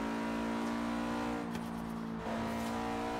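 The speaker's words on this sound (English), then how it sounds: "this car sounds really good" A car engine in the video game Forza Horizon 3 hums at a steady, sustained drone with a slight pitch dip near the end, fairly faint and alone without talk.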